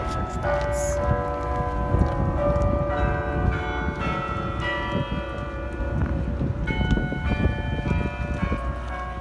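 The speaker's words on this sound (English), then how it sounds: "But then the bells started. I am such a sucker for church bells." Church bells in Ottawa peal continuously, ringing tones layered over a busy, noisy crowd or street ambience.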